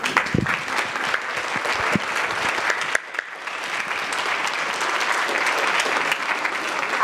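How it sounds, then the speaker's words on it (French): Audience applause for children at the close of a talk session on screens, a steady dense clapping that fills the whole stretch, loud and sustained with a brief dip midway. "On va remercier, applaudir les enfants parce qu'ils ont été là pour les 2 sessions."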